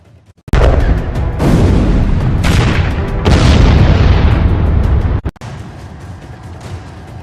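Heavy explosions from a strike on a Russian command post in occupied Ukraine, with loud booming blasts and long roaring rumbles that overlap for several seconds, then cut off abruptly and leave fainter rumbling.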